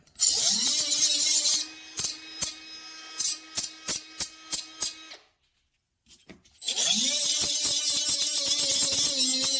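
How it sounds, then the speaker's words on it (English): A small grinder cleaning up a metal piece for a Harley windshield bag mod, a loud high whine in two long runs broken by short bursts and a brief pause. "that little grinder just makes such quick work out of it"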